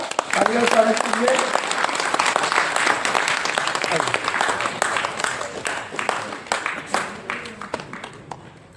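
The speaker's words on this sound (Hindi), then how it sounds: "ताली बजाइए जरा, ताली और स्वागत कीजिए।" At a BMS labour union convention, the crowd claps to welcome newly elected president Venkat Lakshmi onto the stage; sustained, busy applause with scattered sharper claps, voices talking over it throughout.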